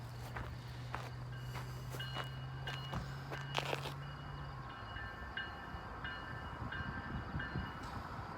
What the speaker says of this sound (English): Maybe we can get the train going by.